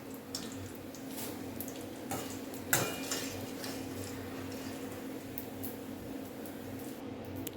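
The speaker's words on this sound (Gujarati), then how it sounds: "બધું જ એક મોટા બાઉલમાં જ આપણે મિક્સ કરવાનું છે।" Fried puffed rice and spices mixed in a big bowl, soft scraping and a few spoon clinks against the bowl, quiet and close, with one sharper knock partway through.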